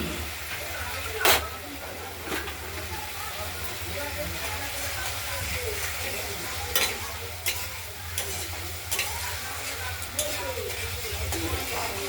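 Paneer curry masala of fried paneer, potato, tomato and ground spice paste sautés in oil in a pan, giving a steady sizzle with occasional stirring clinks throughout.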